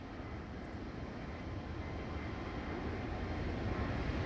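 Airbus A321neo engines in the Toliss flight simulator, heard from a flyby view as a steady, loud broadband roar that swells slightly toward the end, with no talk.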